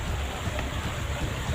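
Steady rain falls on a mountainside in Oriental, a soft, even hiss of drops forming a close wash of noise with no talk.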